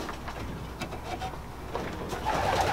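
Racing pigeons coo softly in a loft, with a few low, burbling calls at a moderate distance over a faint background hiss.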